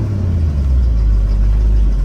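An old Chevy tow truck pulling a trailer of roughly 10,500 pounds, its engine a steady loud low rumble that holds constant throughout, with no talk.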